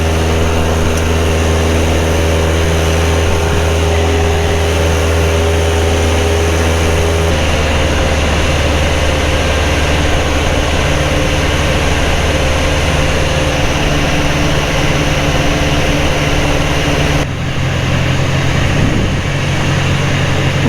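A Piper Cub's engine and propeller drone steadily and loudly through a crosswind landing approach, a constant heavy hum that dips in tone partway through as power changes.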